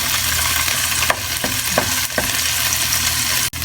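Garlic mashed in a pot for marinated chicken and potato stew, a few soft pressing knocks and scrapes over a steady, close sizzle, with no talking.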